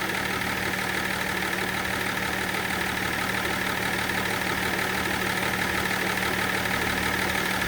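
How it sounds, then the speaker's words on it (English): A BMW E39 sits in park with its engine idling, a steady low hum and faint mechanical ticking that stays unchanged throughout at moderate volume. "let's leave the car on park and let's keep it running"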